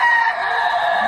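A red chicken clucking close by, one loud drawn-out squawking call that fills the moment on its own, with no voices over it.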